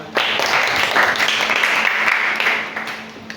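A vocational school classroom breaks into applause, a dense, close burst of many hands clapping that holds for a few seconds before tapering off.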